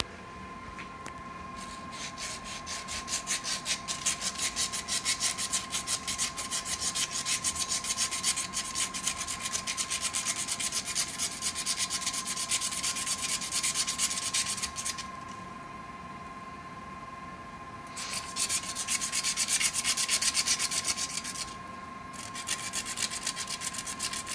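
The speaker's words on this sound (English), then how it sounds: "I'm going to scrape as much wax as I can off of this razor blade" A razor blade being scraped to clear off wax after a 3D print job, dense rapid close rasping strokes in long bursts with short pauses, over a faint steady hum.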